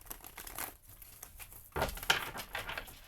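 Tarot cards are shuffled close up in a quiet room, giving papery crinkling riffles and soft patters that build to a sharper burst near the middle.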